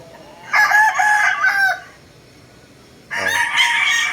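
Roosters crow at a gamefowl farm in Novaliches, Quezon City, with two loud, close crows split by a short quiet gap.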